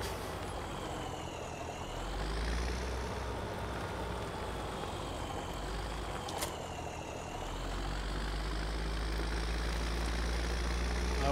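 A tractor engine drones steadily as it pulls a rake in a farming simulator, a low continuous rumble with a slight rise and fall in pitch and no talking.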